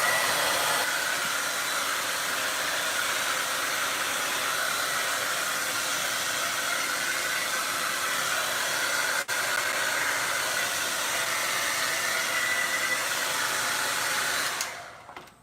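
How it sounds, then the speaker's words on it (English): A blow dryer on high heat and high speed drying hair, a steady, loud, breathy roar that runs unbroken for about fifteen seconds before cutting off at the end. "I'm about to turn the blow dryer back on to blow dry my hair"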